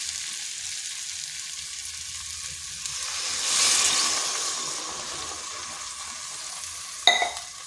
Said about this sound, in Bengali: এরপর দিয়ে দেবো জল।